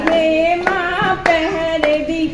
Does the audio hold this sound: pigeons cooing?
no